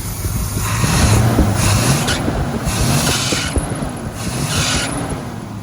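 A car engine idles just after a cold start, running smooth and steady close by with faint mechanical whine and periodic belt squeal rising and falling throughout.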